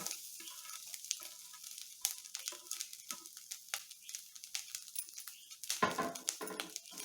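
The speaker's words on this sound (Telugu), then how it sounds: "పచ్చి కొబ్బరి కూడా కలర్ వచ్చేంత వరకు వేయించుకోవాలి" Fresh grated coconut fries in a pan until it browns, a faint, close sizzle broken by scattered light scraping and clicking from stirring.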